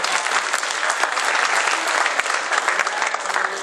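A crowd at an acting workshop claps steadily, a dense, even wash of applause that holds for a few seconds without voices.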